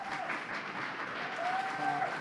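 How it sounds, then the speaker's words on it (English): Steady applause from a crowd at a county commissioners meeting, a continuous patter of clapping that carries on throughout without pause. "please do not clap"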